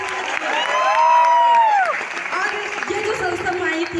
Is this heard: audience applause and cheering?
yes